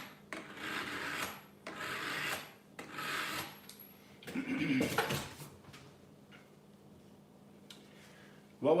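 A blade is sharpened before carving a harvested garden pumpkin: several rough rasping strokes in separate bursts, close and fairly quiet, with a short pause and a sharper knock at the end.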